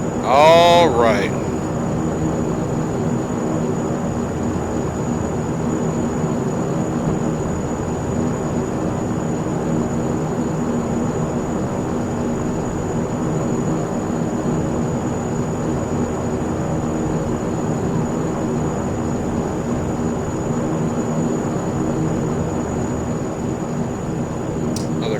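A Saab 340 turboprop taxis in X-Plane 11, its engine droning in a constant, close, even hum with a thin high whine above, after a short louder burst at the start.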